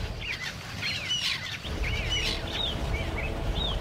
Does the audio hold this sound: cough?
no